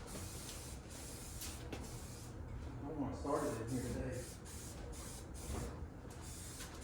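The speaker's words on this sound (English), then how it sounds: "you're spraying glue" Glue sprayed from an aerosol can in a workshop while building a trailer: a steady broadband hiss runs through the clip, swelling briefly midway, while someone talks over it.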